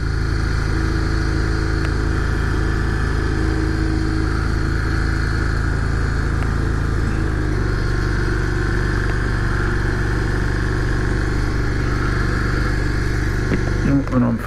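A Yamaha XVS650 Dragstar motorcycle engine runs loud and close, its revs hanging slightly high with a continuous throbbing drone, with a voice speaking over the engine.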